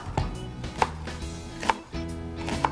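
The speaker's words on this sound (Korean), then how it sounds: "이제 같이 곁들일 채소를 먼저 좀 다듬을게요. 양파," A knife chops onion and other vegetables for a gwamegi gangjeong dish: three sharp, evenly spaced chops, close and crisp, with no talking.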